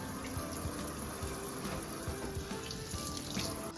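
Homemade butter being rinsed under a running kitchen tap, a steady splashing gush of water into a sink with small irregular splatters as the stream hits the butter, close and continuous, no talking.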